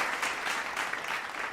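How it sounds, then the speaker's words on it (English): One person clapping hands in a quick, steady run of sharp claps, close and fairly loud, with no talking over it. "so I'll clap again"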